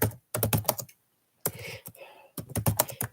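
Rapid, clattering keystrokes on a computer keyboard in three close, steady bursts separated by short pauses.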